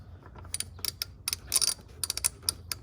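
A ratchet fitted with a 17mm socket works a bolt loose on a 1992 Mercedes-Benz 600SEL W140, giving quick, close metallic clicks in short irregular bursts.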